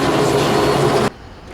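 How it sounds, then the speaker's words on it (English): Near a Branson, Missouri attraction, a helicopter preparing to take off gives a loud, steady turbine and rotor roar that cuts off abruptly after about a second, leaving quieter background. "I think a helicopter is getting ready to take off over here."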